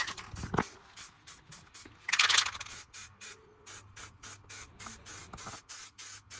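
A spray rattle can paints a Harley Benton DIY guitar kit, giving repeated short hissing bursts up close, with one longer, louder spray in the middle and faint handling noise between.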